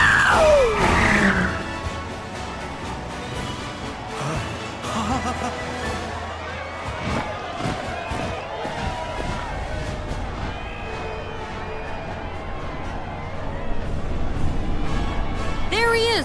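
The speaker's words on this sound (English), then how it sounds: "Can you even hear me over this crowd?" Loud crowd cheering in the Final Fantasy VII Rebirth parade for President Rufus Shinra, a continuous dense roar with scattered shouts and a high scream at the start, blended with music and a voice talking over it.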